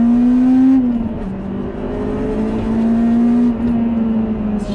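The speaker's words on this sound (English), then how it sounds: "there was a strange metallic sound towards the top end of the rev range" A Honda Type R engine revving steadily with a droning hum, a faint metallic rattle riding on top as the revs rise and fall, strongest near the top of the rev range.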